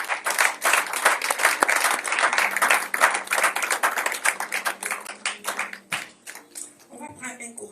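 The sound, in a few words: congregation applauding the Lord in church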